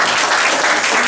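Loud, close applause fills a Dutch award ceremony, a dense, continuous burst of clapping that holds steady for about a second.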